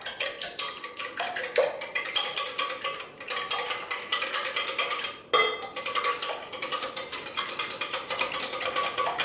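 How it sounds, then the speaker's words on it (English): A spoon stirs a frozen yogurt mixture with raw eggs in a bowl, making a steady, rapid clicking and scraping rhythm that runs continuously with a couple of brief pauses, fairly close and with no talking. "I'm gonna go ahead and stir that up"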